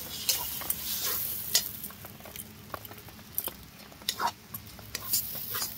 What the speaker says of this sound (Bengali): দিয়ে দিচ্ছি বেটে রাখা মুগ ডাল